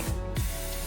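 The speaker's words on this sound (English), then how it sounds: "Yes, the cooking spray." A short, steady hiss of cooking spray coating an MDF form as a concrete release agent, close and loud, lasting under a second.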